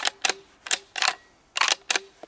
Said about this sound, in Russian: Затвор ходит туда-сюда легко очень.